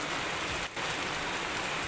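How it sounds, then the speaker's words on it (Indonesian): Rain falls steadily in a dense, even hiss of drops on surfaces, close and continuous with a brief dip. "Kebetulan lagi ada keberkahan turun hujan."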